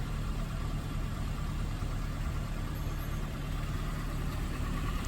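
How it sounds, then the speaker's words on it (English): A 2010 Ford Ranger truck engine drones steadily while driving, a constant low rumble and road noise filling the cabin without pause. "I'm driving Burke's truck"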